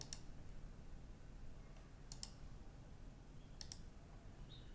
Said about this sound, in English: we merely need to click on the sliding bar.